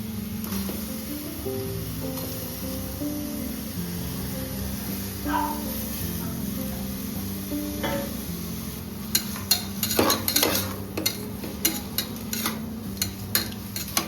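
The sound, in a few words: frying with ginger garlic paste added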